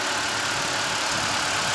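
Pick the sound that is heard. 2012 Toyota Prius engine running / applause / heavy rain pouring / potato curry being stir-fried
2012 Toyota Prius engine running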